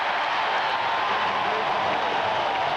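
Baseball crowd at the 1986 All-Star Game roaring steadily, a dense, continuous wash of cheering and applause that stays loud and even throughout.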